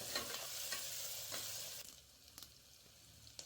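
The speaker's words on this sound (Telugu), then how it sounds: "అల్లం వెల్లుల్లి పేస్ట్ పచ్చివాసన పోయేంత వరకు వేయించి" Ginger garlic paste and onions fry in a pan, giving a quiet, soft sizzle broken by a few scraping stirs, louder in the first half and fading somewhat after.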